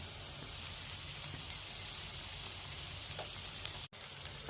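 Carrots fry over high heat in a pan, a steady, fairly quiet hiss with a few faint pops and one brief break near the end.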